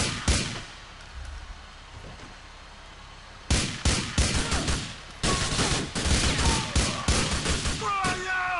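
Pistol gunfire in GTA IV, a cluster of sharp shots early on, then repeated bursts of loud, close cracks through the second half, amid game noise and some speech.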